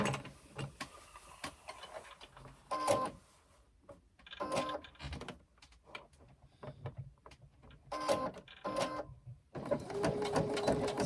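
A sewing machine stitches a 1/4 inch seam on a leather laptop bag in short, close bursts of rapid whirring, separated by brief pauses and clicks of the mechanism.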